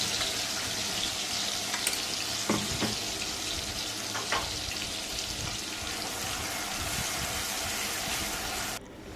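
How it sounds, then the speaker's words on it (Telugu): Tomato and onion paste fries in oil over a low flame while making chicken fry, giving a steady close sizzle with a few brief clinks of stirring and no talking. "టమాటా ఉల్లిపాయ పేస్ట్ కూడా వేసి లో ఫ్లేమ్లో పెట్టి బాగా ఆయిల్ పైకి తేలేదాకా ఫ్రై చేసుకోవాలి"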